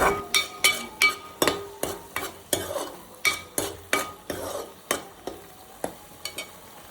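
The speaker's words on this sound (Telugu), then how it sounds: "కలర్ చేంజ్ అయ్యే వరకు దాన్ని మనం ఫ్రై చేసుకుంటూ ఉండాలి, కలుపుకుంటూ" Oil sizzles steadily in a pan while a utensil scrapes and stirs for fish curry, giving a regular series of sharp clinks against the metal roughly every half second, close and clear with no talking.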